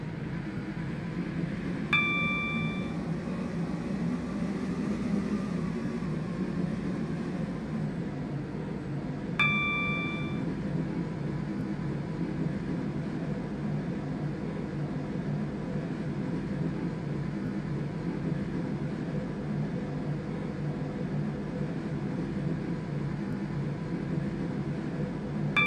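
A passenger train in the Roblox game Stepford County Railway runs on a Stepford Connect service toward West Wyvern, making a steady low rumble throughout, broken twice by a short chime-like ding.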